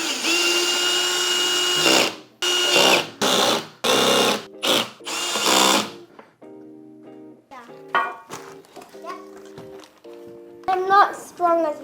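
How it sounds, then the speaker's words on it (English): A power drill drives long screws while a Razer Iskur ergonomic gaming chair is assembled, with several loud, close whirring bursts of a second or so each, and then an adult and someone talking. "Can you pass me the drill?"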